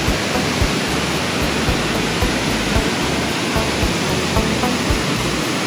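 Steady, loud roar of falling water at the Lynn Canyon waterfall in Vancouver, a dense, continuous rush heard close up, with no talking over it.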